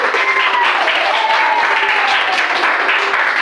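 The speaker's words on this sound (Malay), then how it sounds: "Sila tepuk tangan karena Anda telah berhasil." A classroom of students applauds at the end of a lesson, a steady dense patter of clapping filling the room, with a voice speaking over the clapping.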